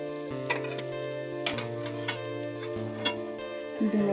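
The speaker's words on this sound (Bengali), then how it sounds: "একটা একটা বড়া দিয়ে দিলাম তেলের মধ্যে।" Egg batter fritters frying in hot oil after fish heads were fried in it, a steady close sizzle with several sharper crackles and pops as pieces go in and oil spatters.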